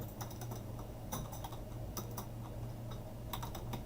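Quiet, fast keystrokes on a computer keyboard while a web address is entered in a browser tab, with clusters of clicks and brief pauses over a low steady hum.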